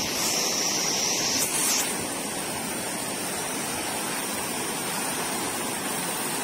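River water rushing near the Tibetan camp in Pokhara, a steady, dense broadband roar that stays constant and close throughout, with no voices.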